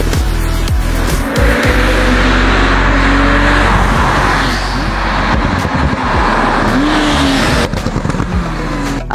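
A Porsche 911 Turbo S Stage 2 cabriolet drives hard on the road, its loud engine rising through gears with tire noise and gusting wind, close and continuous.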